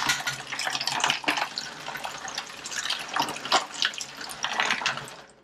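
Star San sanitizer solution poured into a container for home brewing a hard seltzer kit, a steady splashing, trickling liquid stream close by, with no talking.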